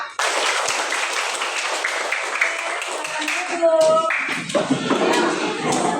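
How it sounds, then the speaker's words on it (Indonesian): Children in a classroom break into a round of applause for everyone, busy clapping filling the first few seconds before thinning out as voices and scattered taps take over. "Tepuk tangan untuk semua."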